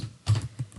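A shift key pressed on a computer keyboard, heard as a couple of close, quick plastic key clicks.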